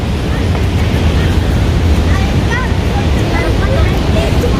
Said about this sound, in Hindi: यहाँ पर वाटरफॉल आपने देखी है